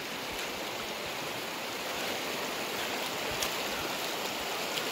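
Water from a hillside stream at a low-budget picnic spot in Dehradun rushes in a steady, even hiss, fairly loud and unbroken, with no voices.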